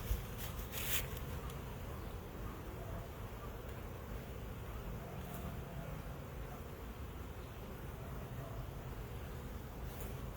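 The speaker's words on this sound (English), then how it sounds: "The bees will fly around you." Bees swarm around an open beehive during a hive inspection, a steady faint buzzing drone filling the air throughout with a few louder passes near the start.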